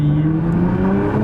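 Nissan GT-R R35 fitted with an AAM 2.75-inch intake, its turbo spooling up as the engine hums steadily, a close, continuous drone with a slight rising whir and no talk.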